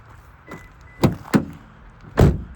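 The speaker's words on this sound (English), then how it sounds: "just grab the door handle and it will unlock the car" Door mechanism of a 2023 Subaru Forester Premium unlocking via the handle: a faint click, then several solid thunks and latch clacks close by outdoors, with no talk.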